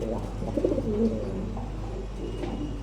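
Pigeons coo nearby in low, throaty burbling calls, a few clear phrases over a steady background hum, with no talking.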